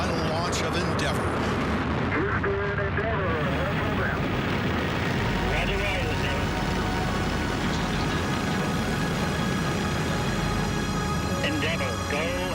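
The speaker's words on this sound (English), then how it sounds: "Liftoff for the final launch of Endeavour." Final liftoff of Space Shuttle Endeavour: a continuous, overwhelming roar of rocket engines with crackling rumble, heard from a distance and loud throughout, with a broadcast commentator's voice faintly over it early on.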